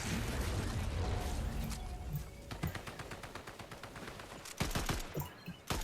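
Rapid bursts of video game gunfire crackle loudly and densely at first, then break into scattered sharp shots and short volleys, with no talking over them.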